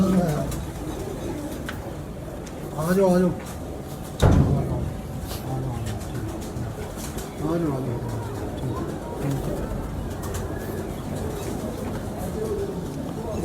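Racing pigeons coo in their cages, soft repeated rolling calls in a loose rhythm, with a voice calling out over them and a door or cage knock midway.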